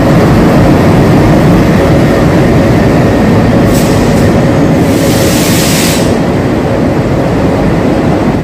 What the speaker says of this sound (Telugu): ట్రైన్ గుంతకల్ 15 minutes బిఫోర్ వచ్చింది